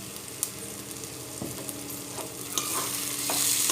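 Spices, including Kashmiri red chili powder, sizzle softly in mustard oil for a chicken masala curry, with scattered clicks of stirring and a hiss that grows toward the end.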